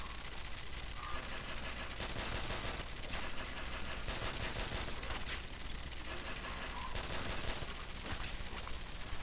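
Gunfire in the Call of Duty zombies map Nacht Der Untoten at a very high round, three sustained rapid bursts spaced a couple of seconds apart over a steady background of game noise.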